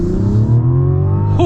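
A 2024 Mazda CX-90 High Output in sport mode revs up hard from inside the cabin, its engine note climbing steadily in pitch as it accelerates, loud and continuous.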